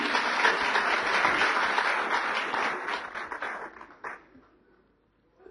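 Studio audience applauding to welcome the Delhi Chief Minister and Aam Aadmi Party leader as a guest at a televised political talk event; dense, loud clapping that fades out near the end.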